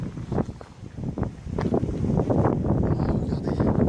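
Wind gusts buffet the microphone on the Brittany coast, producing low, uneven rumbling bursts that swell and settle over a few seconds.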